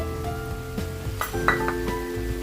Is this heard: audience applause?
no